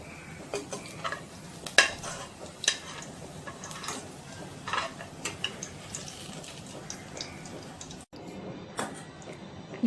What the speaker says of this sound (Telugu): ఉల్లిపాయ ముక్కలను వేసుకొని బ్రౌన్ కలర్ వచ్చేంత వరకు కలుపుతూ వేయించుకోవాలి.